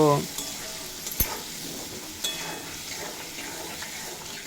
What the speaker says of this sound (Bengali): লো টু মিডিয়াম ফ্লেমে রেখে তিন মিনিট মতো ভেজে নেব